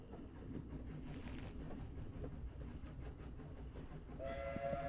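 A train travelling in the game 80 Days, with a continuous rolling rumble and rattle of carriages and a whistle sounding at the end, heard alone without talking.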